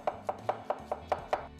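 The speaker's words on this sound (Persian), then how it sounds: "مشغول خرد کردن پیازها هستید" Knife chopping onions on a cutting board, seven crisp evenly spaced strikes close up with a steady rhythm, no talking.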